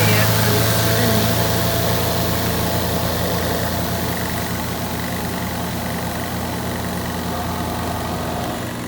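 A small portable washing machine spinning its drum gives off a loud, steady motorized hum with a low droning whir that holds constant throughout and fades slightly at the end.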